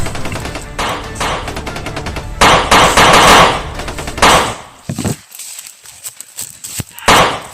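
Rapid bursts of loud gunfire crackle almost nonstop, then thin out into scattered, irregular shots with faint voices in between.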